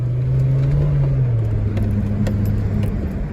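A used car pulls away under hard acceleration on a test drive, its engine note climbing, then dropping briefly at a gear change, a loud steady rumble heard from inside with no talk.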